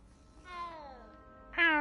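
A cat in Hogwarts Legacy gives two close meows, a longer drawn-out falling one followed by a short, sharper one.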